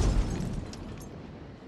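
A single hive bomb detonates in a video game, a loud, sharp boom that bursts at once and then trails off into a short, rumbling decay.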